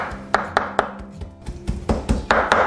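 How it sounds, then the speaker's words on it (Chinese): Shrimp meat minced on a board with the back of a kitchen knife, heard as a string of sharp, fairly close chopping thuds at an uneven rhythm, with soft kitchen background between strikes. "接着把虾仁先拍扁，然后用刀背剁碎。"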